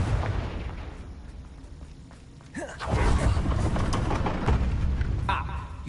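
A Confringo blasting spell goes off in Hogwarts Legacy, a sudden boom partway through that rolls into a rumbling, crackling blast with debris, after a quieter stretch with a voice.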